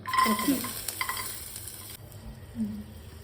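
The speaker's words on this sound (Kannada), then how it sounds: "ಎಣ್ಣೆ ಹಾಕೋಬೇಕು ಎಷ್ಟು ಕೆಂಪಾಗಿ ಆಗ್ಬೇಕಪ್ಪ ಉಳ್ಳಾಗಡ್ಡಿ ಹುರಿಬೇಕು" Onions frying in oil in a home kitchen for an Uttara Karnataka style brinjal palya, a soft sizzle with stirring scrapes in the first two seconds, then quieter pan noise.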